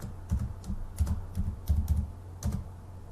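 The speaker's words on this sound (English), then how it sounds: "Let's type John" Keystrokes on a computer keyboard while entering a name into an Excel spreadsheet, a quick burst of close, soft clicks in uneven clusters, with no talking.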